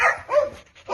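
A small beagle-like puppy at an animal shelter barks and whimpers close by, giving a few short yips and whines in a quick run of separate bursts.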